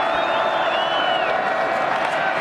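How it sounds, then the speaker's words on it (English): Football stadium crowd at an Air Force home game, cheering and roaring steadily as the noise builds before a third-down snap, with a few high whistles and whoops riding over the dense wash of voices. "Crowd gets revved up here."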